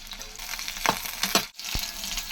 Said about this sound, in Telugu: అయితే మిర్చి కూడా వేస్తున్నాను. వేయించేసుకుందాం వీటిని బాగా.